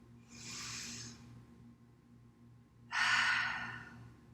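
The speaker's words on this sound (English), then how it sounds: "Take a deep breath into the low belly. Exhale, belly softens." Deep belly breaths during a yoga flow, a slow inhale followed by a longer, louder exhale, both close and breathy with no talking.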